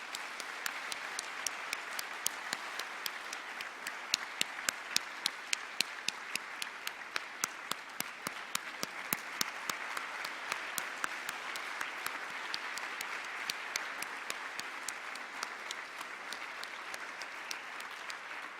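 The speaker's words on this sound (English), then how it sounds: "Let's give him one more round of applause, guys." Sustained audience applause for a veteran guest speaker at a talk event, steady dense clapping with a few sharper claps standing out, continuing evenly for the full stretch without speech.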